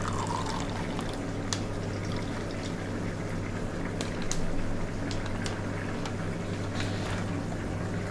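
Water is poured from a glass into a cooker holding rice while making Pongal, a steady unbroken splashing pour lasting several seconds, close and moderately loud, with no talking.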